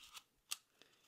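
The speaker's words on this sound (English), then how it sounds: "a toilet paper roll with some scissors. Cut off a small section." A few quick, crisp snips of scissors cutting through a toilet paper roll, quiet and close, with brief gaps between cuts.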